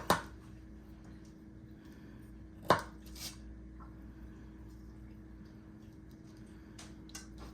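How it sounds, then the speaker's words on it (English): Broccoli florets snapped apart by hand: a few sharp, crisp cracks, one at the start, another near the middle and a faint one near the end, with quiet room tone between. "You can just break them apart. You don't really have to cut them."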